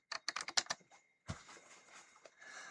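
Typing on a computer keyboard: a quick burst of crisp, close key clicks, a short pause, then softer continuous clatter and background noise, with no talking.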